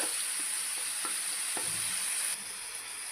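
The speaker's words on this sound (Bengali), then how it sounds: "গরম করে নিয়ে প্যানের মধ্যে পরিমাণ মতো সর্ষের তেল দিয়ে তার মধ্যে শুকনো লঙ্কা, কালো জিরে দিয়ে বাটাটা দিয়ে দিতে হবে।" Cabbage paste fries in hot mustard oil with dried chili and nigella seeds, giving a dense, steady sizzle broken by a few soft taps, then dropping slightly quieter partway through.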